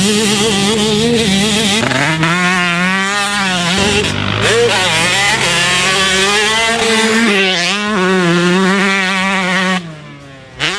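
A Yamaha YZ134 two-stroke motocross bike screams loudly and close by while being ridden, its high engine note rising and falling through throttle changes and gear shifts before cutting out abruptly at the end.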